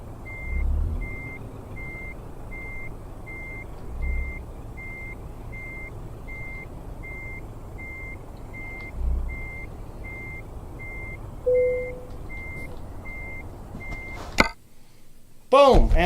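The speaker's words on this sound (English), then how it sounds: "I always concentrate a little bit harder whenever I'm backing up these trailers in here." In Euro Truck Simulator 2, a truck backs a trailer, its reversing alarm beeping in an even, repeating pattern over a low engine hum, with occasional low thumps and a burst of other noise near the end.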